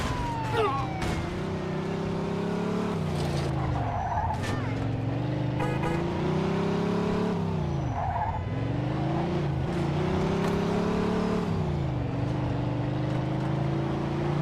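Car engine in the 1940s-styled driving game Mafia II, revving hard with repeated rising and falling pitch sweeps as the car speeds and shifts, loud and continuous, with brief tire squeals and faint siren-like tones.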